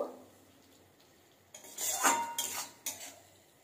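Spices with a little water are stirred in a kadai while chicken is being cooked. After a quiet start come bursts of metal scraping and clinking against the pan, close and moderately loud, with no one talking.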